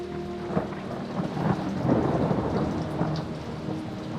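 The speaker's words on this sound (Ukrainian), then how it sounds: "За вікном жодних звуків, окрім крапель дощу." Steady morning rain falls outside a window in a Carpathian forest, a continuous soft patter with scattered louder drops, and faint low rumbles beneath.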